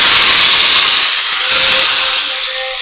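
Loud, steady hissing sizzle from a hot curry-leaf oil tempering poured into rasam, fading slightly toward the end.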